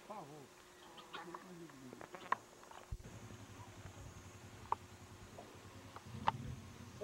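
A person imitates a cicada with their voice on a rural farm in Rio Pardo, Rondônia, producing a buzzing, trilling drone with sharp clicks over a low steady hum, close and fairly quiet, with no words.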